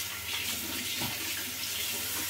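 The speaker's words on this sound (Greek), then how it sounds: "Οπότε ρίχνω νερό," Tap water runs steadily into a sink during a wet shave with a Gillette 7 o'clock Sharp Edge blade, a constant close splashing hiss without any voices.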